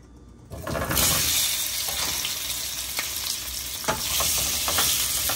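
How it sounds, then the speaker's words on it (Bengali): A loud, steady sizzle of boiled potatoes frying in a hot pan until reddish, the same pan used for duck eggs, with occasional scraping stirs and crackles breaking through the hiss. "লাল লাল করে ভেজে নেবে।"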